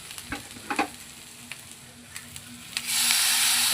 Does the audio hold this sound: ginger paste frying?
yes